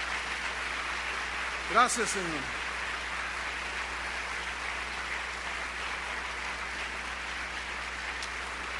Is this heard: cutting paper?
no